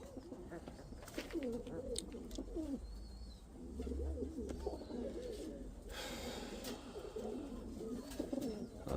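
Pigeons in a loft, adult birds and seven small young pigeons together, cooing continuously in overlapping low burbling calls, with occasional faint squeaks from the young, close and steady throughout.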